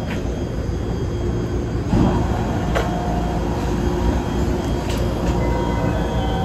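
A long train rolls through a Tokyo station, a loud continuous rumble of wheels with occasional sharp metallic squeals and clicks, close by and unbroken throughout.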